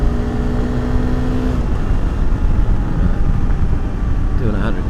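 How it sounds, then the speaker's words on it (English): A Honda CRF300L Rally motorcycle pulls hard in fifth gear, a loud, continuous engine drone under heavy wind roar, the tone rising slightly near the end. "And I'll just accelerate hard now in 5th."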